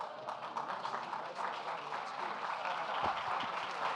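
Steady, dense applause from an audience, a continuous wash of many hands clapping at moderate loudness throughout.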